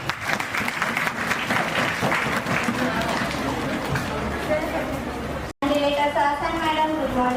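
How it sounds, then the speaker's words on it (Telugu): An audience at a girls' mock parliament event applauds in a sustained burst of clapping, fairly loud and close, broken by a brief cut before voices rise after it. "ఓకే, కొంచెం చప్పట్లు కూడా."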